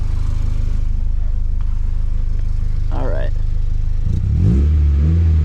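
A Nissan 240SX fitted with an ISR single exit GT catback exhaust holds a steady low idle, then revs up loudly near the end, with a brief spoken remark over the engine.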